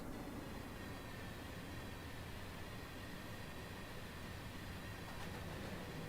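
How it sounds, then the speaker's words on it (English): A very long freight train passes in Train Simulator on the Riesa to Dresden line, heard as a steady, faint, even rumble with a hissing wash that holds unchanged throughout. "That's a long train. That's a very long freight train."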